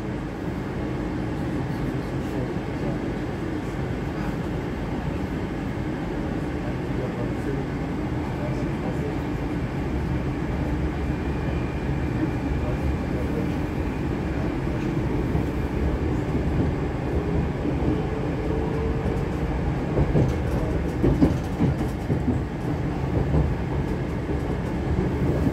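A Moscow metro train runs between Fili and Kievskaya stations with a continuous loud rumble and roar of wheels and carriage, steady throughout with faint rattles.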